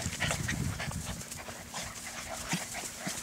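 Several puppies panting busily with a few soft whimpers, close up and fairly continuous, with a faint steady hum underneath.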